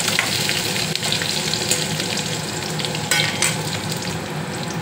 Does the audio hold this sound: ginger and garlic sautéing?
yes